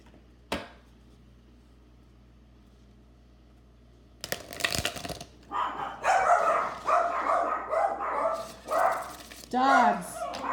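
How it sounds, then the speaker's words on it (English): Dogs barking in a neighborhood at a distance, a burst of several barks and yips after a quiet stretch, with a voice talking over them. "Dogs."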